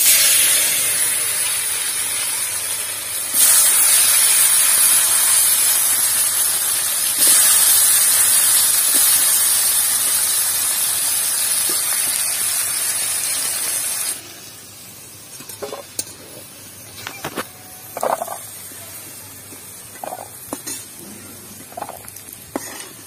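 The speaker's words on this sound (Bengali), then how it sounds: "এবার আলুগুলো ভেজে নেব" Potatoes frying in oil for snakehead fish curry, a strong, hissing sizzle that swells and holds for several seconds, then drops to a quiet crackle with scattered light clinks and scrapes, with no voices.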